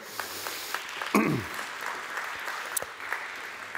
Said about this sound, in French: Merci de les applaudir pour ce très beau moment.